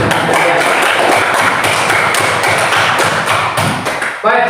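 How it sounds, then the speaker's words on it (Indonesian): Students in a classroom clap together in a dense burst of applause that holds steady for about four seconds, then breaks off suddenly as a voice starts speaking. "Berikan aplaus untuk kalian."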